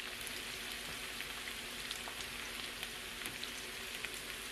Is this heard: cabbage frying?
yes